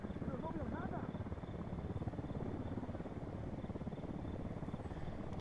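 A helicopter in the video game Villa Verde thrums with a steady, rapid rotor chop that holds even and fairly close throughout. A voice is briefly heard near the start.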